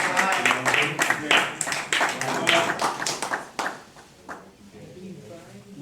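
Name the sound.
round of applause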